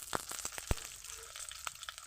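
Black cumin, chili and garlic fry in a little oil in a pan, giving a faint, quiet sizzle broken by a few sharp crackles and pops, with no talking.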